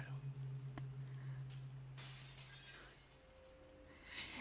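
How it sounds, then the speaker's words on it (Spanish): Glass shatters in the Resident Evil 2 remake: a brief, fairly faint crash of breaking glass over a quiet, tense ambient hum, with a little more crackle near the end. "Se han oído cristales rotos."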